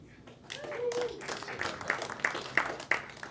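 Audience clapping for comedian Mark Handler at a live stand-up comedy show, a moderate applause swell rising after a quiet start, with scattered sharp claps and voices mixed in.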